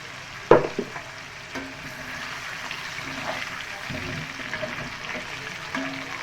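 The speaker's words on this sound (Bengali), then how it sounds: "আলুটা একটু লাল লাল করে ভেজে নেবো" Steady sizzle of potatoes frying in oil for biryani, with a sharp clatter near the start and occasional stirring scrapes, close and moderately loud.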